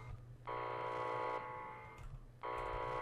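An alarm buzzes in the Minecraft video game, a steady harsh electronic tone sounding in two long bursts with a short gap between, fairly faint and with no talk over it.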